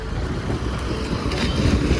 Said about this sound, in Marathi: भरपूर वारा आहे